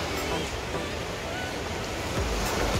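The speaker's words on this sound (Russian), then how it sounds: "А вот непосредственно море." Sea surf rolling onto the hotel beach in Sochi on an overcast December day, a steady wash of waves with wind buffeting the microphone.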